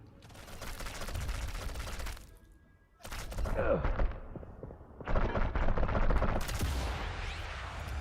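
Gunfire in the video game Sniper Elite: Resistance, played on hardest difficulty: loud rattling bursts in separate stretches, broken by short quiet gaps, with a heavy impact partway through.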